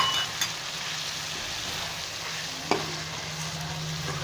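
Chicken karahi fries with salt, chilli, black and white pepper and garam masala while a spoon stirs it, making a dense continuous sizzle with a couple of sharp scrapes and clanks against the pan.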